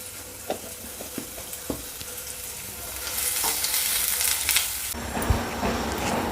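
Onions sautéing with a pinch of salt in a pan, starting with a few spatula taps over a low sizzle that swells into a louder, fuller frying hiss with stirring.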